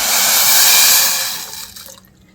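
Water poured from a metal jug into a pot of moth beans on a gas stove for misal, a loud steady splashing gush that tapers off and stops near the end, with no talk.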